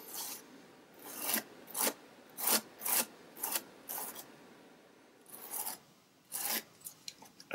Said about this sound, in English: just scrape it.